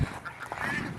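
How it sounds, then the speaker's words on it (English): Ducks quack in a farmyard poultry pen during a round-up, several short nasal honking calls in quick succession, close by and fairly clear. "There's only one duck in there."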